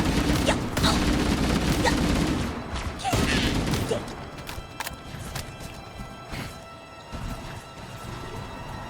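Banshee fighters open fire in Halo Campaign Evolved: scattered sharp gunfire cracks and impacts land amid busy battle noise, loud at first, then thinning into sparser hits.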